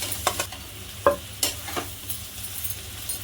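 Idli pieces frying in a pan with a red chilli and pepper spice masala, heard as a faint sizzle with several sharp scraping stir strokes, no voices.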